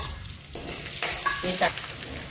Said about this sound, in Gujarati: સિંગ તેલ નાખીશું। 1 ચમચી જેટલું આપણે જીરું નાખીશું। અડધો ઇંચ આદું અને 1 લીલું મરચું તે નાખીશું